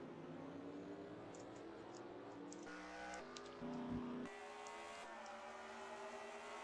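Stock cars roll into the pits in the NASCAR Racing 2003 video game at Circuit of the Americas, a faint, steady engine drone whose pitch shifts in stages, with a short, slightly louder tone partway through.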